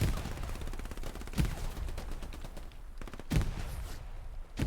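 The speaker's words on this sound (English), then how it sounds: "Grenades going off like crazy." Gunfire and grenade blasts crack through a large 18-versus-18 World War II battle on the Kharkov map, rapid volleys of shots with two heavy explosions standing out, at moderate distance and with no talk over them.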